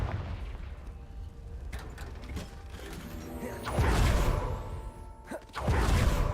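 Confringo spells fire in Hogwarts Legacy, and two strong blasts stand out with deep booming impacts and crackling tails. They come after a stretch of softer mechanical clicks and rattles.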